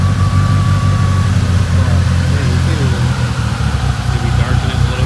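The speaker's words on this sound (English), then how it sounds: "Alright guys, so the car's running and it's pretty loud" A 1998 Mitsubishi Eclipse GST engine runs loudly at a steady idle, with a deep rumble throughout and someone talking over it.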